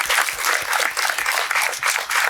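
Audience applause at a live talk event at the Palladium, a dense, steady crowd clapping close by and continuous throughout with no voices over it.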